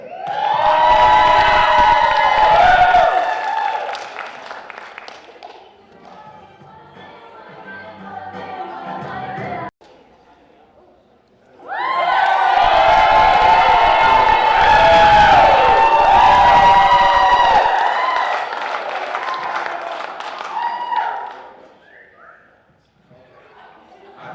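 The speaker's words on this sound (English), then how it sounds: "Please give a round of applause for Diego Fernandez." A school pageant crowd at Mr Tucson High roars with loud cheering, whoops, shouts and applause in two long bursts, easing to quieter murmuring in between.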